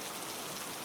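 Steady rain falls at night outside a Victorian train, a dense, even hiss of drops spread across the whole clip with no voices, soft and constant.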